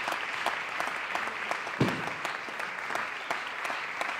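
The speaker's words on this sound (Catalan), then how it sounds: "I un aplaudiment molt fort" Sustained applause from a circus awards-night audience, a steady wash of many clapping hands heard at moderate distance, with one brief thump partway through and no talk.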